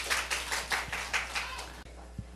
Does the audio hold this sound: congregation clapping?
yes